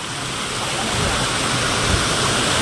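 Heavy water pours over a dam in a steady, loud, broadband roar that stays constant and close throughout, with no other distinct sounds breaking through.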